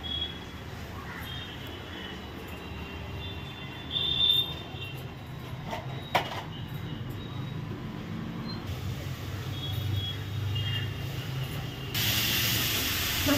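Fish heads fry in oil in a home kitchen pan, a steady broadband sizzle that runs throughout, with a brief flare near the middle and a louder, brighter burst of spitting near the end.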